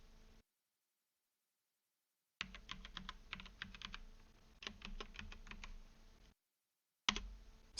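Keystrokes on a computer keyboard as a username and password are entered for a Windows 11 virtual machine, arriving in quick irregular bursts of close clicks separated by stretches of silence, with no voices.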